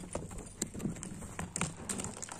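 A young horse shifts about, hooves knocking in quick, irregular close thuds and scuffs on the ground, faint against a quiet outdoor background.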